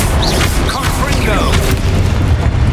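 A Confringo fire-spell explosion from Hogwarts Legacy, a heavy booming blast with rumbling low end sustained across the whole moment amid other spell effects.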